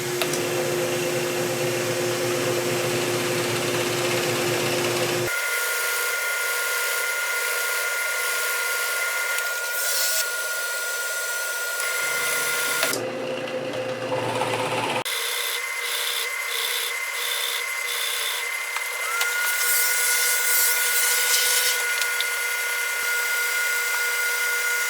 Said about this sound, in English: So now let's drill.